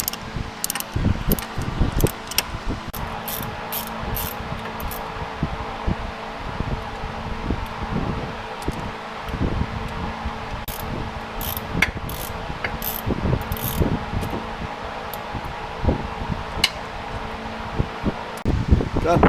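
Ratchet clicking while loosening the lower water pump bolts with an E12 Torx bit on a BMW 535 F10, close and repeated in short bursts, with mechanical clatter and some talk mixed in.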